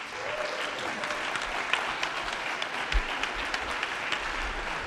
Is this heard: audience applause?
yes